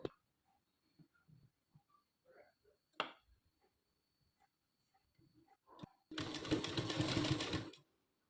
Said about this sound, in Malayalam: ശേഷം ഈ മേലെ സ്റ്റിച്ച് ചെയ്ത് താഴണം